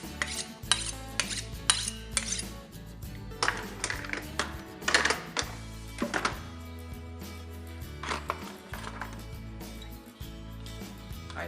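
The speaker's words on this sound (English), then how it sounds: "I sharpen the knife with the sharpening steel." A kitchen knife drawn against a sharpening steel: a series of bright metallic scrapes and rings in an irregular rhythm, close and fairly loud, with a low steady hum underneath.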